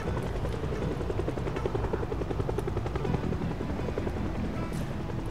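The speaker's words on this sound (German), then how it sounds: "der Hubschrauber, jetzt hört man eigentlich nur dieses Rotorengeräusch" Steady helicopter rotor noise in the video game Project Zomboid, a continuous thudding drone beating evenly on a highway, fairly loud and alone without voices.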